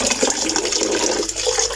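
Tap water runs steadily while potatoes and fenugreek leaves are washed in a home kitchen, a close, continuous splashing rush with small shifts as the vegetables are handled.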